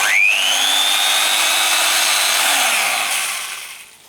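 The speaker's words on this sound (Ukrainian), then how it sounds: "запам'ятайте цей звук, вся, вся люба кутова шліфмашина має так працювати" A Bosch angle grinder spins up with a rising whine, holds a steady high-pitched run for about two seconds, then is switched off and winds down, heard alone and close.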